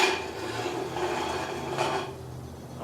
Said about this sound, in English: so we're gonna slide the axles out.